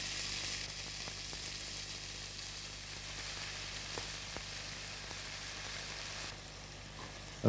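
Harissa-coated lamb pieces fry in a non-stick pan with no added oil, giving a steady, even sizzle that holds throughout with only faint occasional crackles and no talking.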